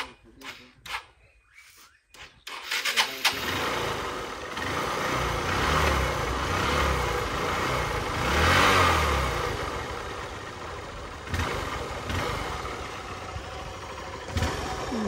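A second-hand motorcycle engine catches after a few sputtering attempts, then idles and revs unevenly with clattery mechanical noise, moderately close, with occasional background voices.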